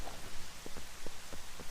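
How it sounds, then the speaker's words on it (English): Rain in The Legend of Zelda: Twilight Princess, a faint, steady patter with a few soft, evenly spaced drips or taps, and no talk. "We need to get rid of this rain."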